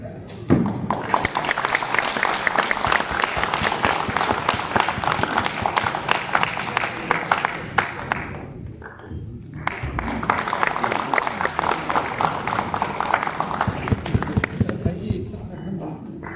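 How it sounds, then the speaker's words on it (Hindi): An audience claps for the artists at a stage event in a Patna auditorium, dense sustained applause with a brief lull midway before resuming, while a voice talks over it. "तालियां बजती रहनी चाहिए कलाकारों के सम्मान में।"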